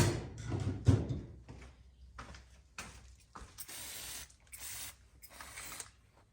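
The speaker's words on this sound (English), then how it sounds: "I'll just grab some electrical cleaner." Electrical cleaner sprayed onto Mercedes transmission parts in a series of short, close hissing bursts of varying length, separated by brief pauses.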